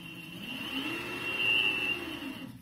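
A Riptide R1 electric skateboard motor whirs steadily at light throttle, a close, high, even electric whine with a faint lower hum that swells slightly in the middle.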